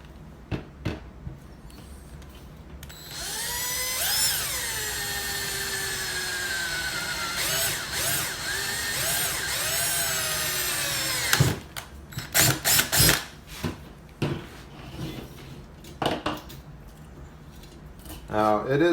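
Power drill boring holes in an RC trailer build: a rising motor whine during one long drilling run, followed by short bursts of drilling and handling clatter, with a voice speaking in between.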